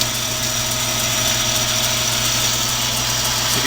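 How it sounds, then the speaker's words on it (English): A Logan 922 metal lathe running steadily with a clicky drive belt, a constant loud mechanical hum and whir with faint rhythmic ticking, no voices. "So you can hear my clicky belt there."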